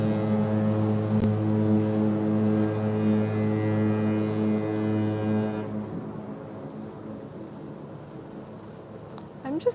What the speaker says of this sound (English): sometimes he has to do certain horns. To say the pilot's off.